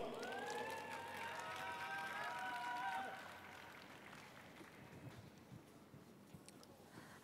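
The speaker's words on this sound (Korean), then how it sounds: "여러분들의 힘찬 박수로 모시겠습니다" Applause from an outdoor crowd at a memorial rally welcoming the host of a cultural program, the clapping dense at first and then thinning to scattered claps, heard alongside wind noise and a brief tonal sound at the start.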